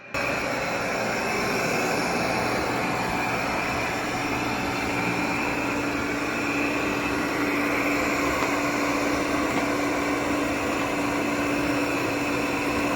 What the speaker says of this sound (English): This is what it actually sounds like, the vacuum.